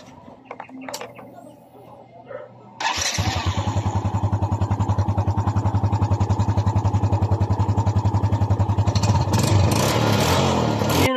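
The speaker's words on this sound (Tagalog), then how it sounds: "paanda rin natin ang kanyang motor, guys" A Yamaha Vega Force fi motorcycle with a full-wave charging conversion starts after a few clicks and rattles, then settles into a loud, steady, rapid idle putter close by, with birds and a rooster faintly audible early on.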